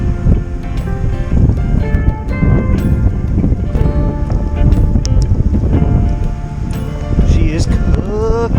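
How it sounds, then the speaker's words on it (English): Strong wind gusts outdoors beside a burning tree stump, a loud, steady broadband rumble buffeting the microphone throughout, with scattered background clatter mixed in. "the wind has cranked up and it is working in our favor, y'all"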